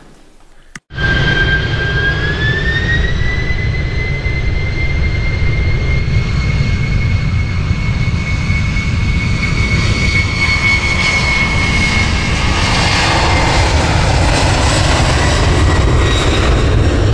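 Steady airliner engine roar fills the cabin during a flight, a loud continuous drone with a rising whine that settles into a sustained tone, no voices.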